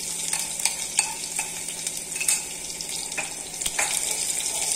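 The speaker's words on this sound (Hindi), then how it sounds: "थोड़ी सी हींग, लहसुन डाल दूंगी।" Asafoetida and garlic sizzle in hot oil with a steady crackling hiss, broken by sharp stirring clinks and scrapes; close and continuous, with no talking.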